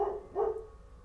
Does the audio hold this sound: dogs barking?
yes